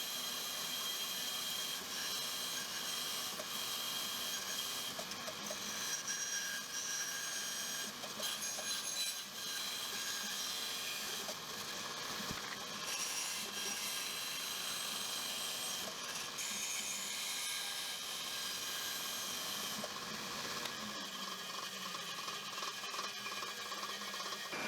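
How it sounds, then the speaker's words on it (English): A bandsaw runs steadily through wood while cutting a small wooden phone holder, a loud, continuous high whine and buzzing hiss that holds for over twenty seconds before easing near the end. "I run mine through there twice, I think, on the bandsaw"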